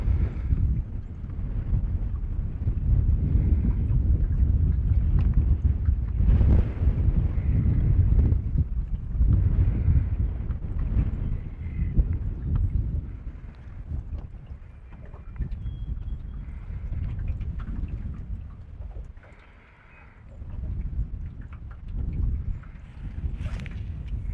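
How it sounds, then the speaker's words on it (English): Steady wind buffeting a small fishing boat, a dull low rumble of wind noise against the microphone that rises and falls over the whole stretch, with faint water sounds underneath. "The wind is really pushing me back."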